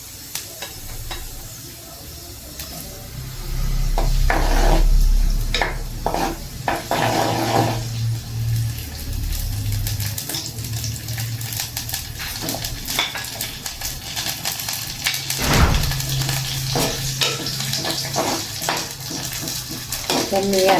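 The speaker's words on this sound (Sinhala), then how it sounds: "දැන් නම් තෙල් ටික රත් වෙගෙන එනවා. මම අල ටික දාන්න යන්නේ." Potatoes frying in hot oil in a pan for a Sri Lankan cabbage dish, giving a steady close sizzle with occasional stirring and clinks of a utensil against the pot.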